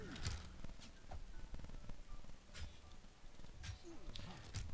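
Horse hooves clip-clop in the fantasy role-playing game Shroud of the Avatar, a string of faint, uneven hoofbeats mixed with other soft game sounds, with someone talking now and then.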